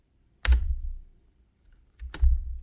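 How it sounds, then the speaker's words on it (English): Two separate presses on a computer keyboard land about two seconds apart, each a close, loud thump and clack with a short decay and silence between them. "And now if I press any key on my keyboard,"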